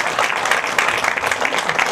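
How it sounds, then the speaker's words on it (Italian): A short burst of steady applause from a crowd, dense clapping throughout with no pauses. "ma ci sono anche gli applausi"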